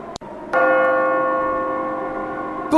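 A soul bell struck in the adventure game Simon the Sorcerer 3D rings out with a clear metallic clang followed by a long sustained tonal hum slowly fading, preceded by a short sharp knock.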